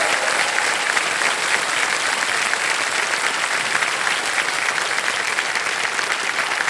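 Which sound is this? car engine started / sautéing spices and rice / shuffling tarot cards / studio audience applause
studio audience applause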